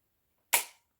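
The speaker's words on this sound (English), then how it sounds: "Let's test this trigger out." A single sharp metallic snap rings out as a bolt-action rifle's trigger, set to about 3.5 pounds, is dry-fired. It is close and crisp, with a short decay.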